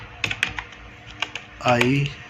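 Fingers tap a computer keyboard in a few quick, crisp clicks close to the mic, followed by a voice speaking briefly.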